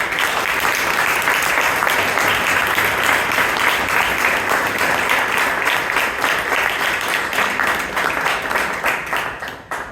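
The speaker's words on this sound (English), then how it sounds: "Can we have a big round of applause for all the roses?" Members at a Toastmasters club meeting give loud, sustained applause, a thick room-filling clatter of many hands that tapers into scattered claps in the final seconds.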